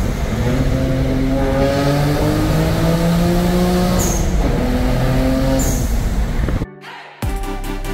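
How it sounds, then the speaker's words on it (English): A BMW 335i pulls hard in second gear with a loud, rising engine drone through two upshift-like dips, then cuts off abruptly before a brief return of road noise; no clear exhaust pop stands out. "Gotta get that pop in second gear."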